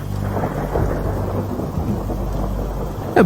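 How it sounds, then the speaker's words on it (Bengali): Steady heavy rain hisses throughout, with a low rumble of thunder rolling underneath. "বাইরে তখনও এক নাগাড়ে বৃষ্টি হয়েই চলেছে"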